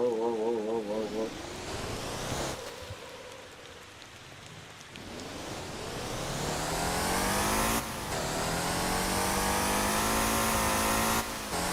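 A Lamborghini engine in Motor Town revs and climbs through rising pitch sweeps, dropping briefly between gear shifts and rising again, loud and continuous, with someone talking over it.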